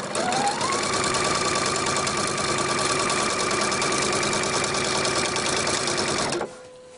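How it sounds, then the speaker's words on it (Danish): A sewing machine runs at speed stitching the side seams of a homemade mesh shopping bag, a loud continuous whirring buzz that stops abruptly near the end. "Så fik vi syet vores sidesømme"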